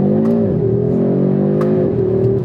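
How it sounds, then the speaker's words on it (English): A 2025 Audi RS3 engine pulls and drops pitch through quick dual-clutch downshifts, a close, loud continuous growl with two sharp falls in tone and no talking. "The dual clutch gives you pretty fun, snappy downshifts, which I definitely am enjoying."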